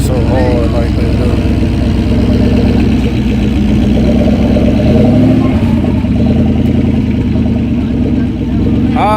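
Small tire drag racing trucks at Yello Belly Raceway rumble and rev loudly and close, a steady deep engine drone with rising revs throughout, while people talk over it.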